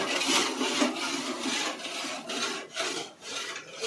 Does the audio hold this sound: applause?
no